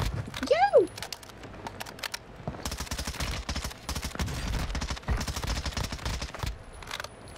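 SMG fire from the MP Shroud in Warzone 2 rattles out in several rapid bursts separated by short pauses, loud and close, with a quick swooping whistle near the start.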